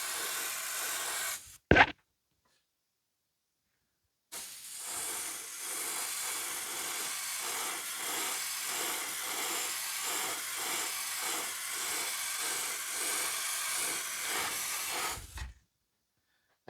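An airbrush sprays inexpensive acrylic craft paint with its compressor set to 20 psi. A brief hiss is followed by silence, then a long, steady, close airy hiss with soft pulsing that cuts off abruptly.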